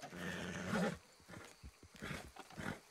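A horse in the video game Red Dead Redemption 2 gives a loud neighing whinny at the start. Fainter snorts and shuffling follow, along with other game noise.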